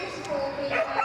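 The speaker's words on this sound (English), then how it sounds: "Cute Border Collie, Tony Dawkins." A Border Collie barks and yips in short bursts at an agility team semi-final at Crufts, the dog sounding moderately close with commentator talk running over it in a busy arena.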